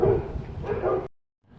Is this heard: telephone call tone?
no